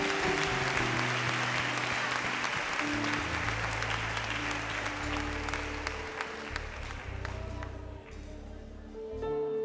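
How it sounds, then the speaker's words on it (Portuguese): A church congregation claps and praises together at a Brazilian evangelical service, with dense, sustained applause over a low sustained keyboard or organ chord that carries on throughout. "Aplauda Jesus!"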